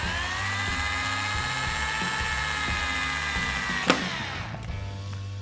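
A cordless power tool, held and run one-handed, whirs with a steady motor whine throughout, with a brief sharp burst near the end.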